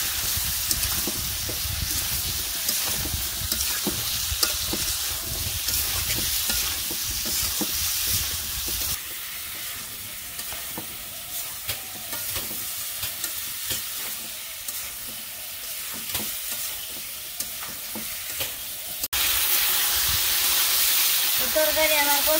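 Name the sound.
fish curry with spices being sautéed and stirred in a pan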